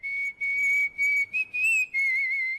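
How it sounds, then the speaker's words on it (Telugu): Loud, clear human whistling close by, a bright steady tone broken into several short phrases with brief gaps, heard alone without talk. "ఏ విజిల్ అంత బాగుందా?"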